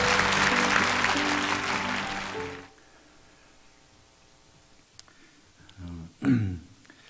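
A church congregation applauds loudly for a few seconds with music playing underneath during a Sunday service, then the clapping stops abruptly, leaving quiet room sounds and a brief voice.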